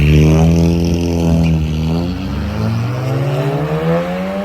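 A Volkswagen Golf R drag racing a Passat at a speedway, engines revving hard with rising and falling pitch through gear changes, loud and close.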